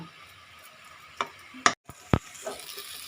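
Grated carrots frying in ghee for gajar halwa, stirred in a pan: a few distinct scraping clicks from the spatula stand out against a faint, steady sizzle.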